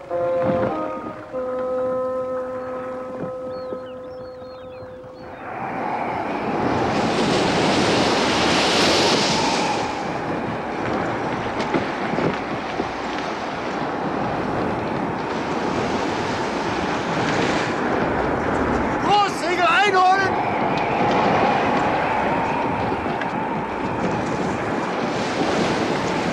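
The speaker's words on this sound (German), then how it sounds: "Der Wind scheint beträchtlich zugenommen zu haben." Strong wind gusts over crashing ocean waves, a radio play sound effect from Jules Verne's Around the World in 80 Days, swelling from a quieter opening into a loud, continuous roar of surf and wind.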